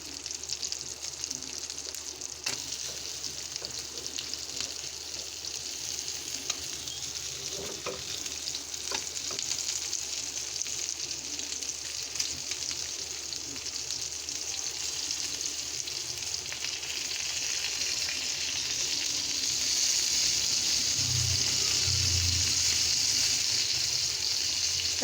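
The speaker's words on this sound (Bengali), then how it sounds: "কই মাছ ভাজা করছি।" Koi fish frying in a pan give off a steady, close sizzle that runs unbroken and grows louder and denser in the final stretch, with no voices.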